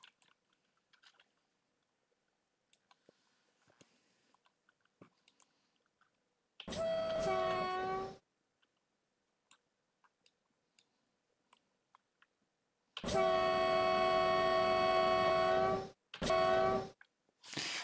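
A diesel locomotive in the MaSzyna train simulator gives faint mechanical clicks and ticks, then sounds two long, loud horn blasts and a shorter third one, with no speech.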